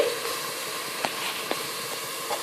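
Food sautés in a pan for a gravy, giving a soft continuous hiss with a few brief clicks from stirring, fairly quiet and without talk.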